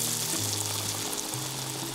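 Banana slices dipped in gluten-free batter frying in very hot oil, a loud continuous sizzle with crackling spatter throughout.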